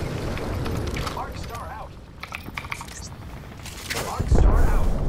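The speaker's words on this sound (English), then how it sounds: "Thermite grenade out" A thermite grenade explodes in the Apex Legends video game, a heavy booming burst near the end, with game gunfire and voices talking over the noisy battle sounds before it.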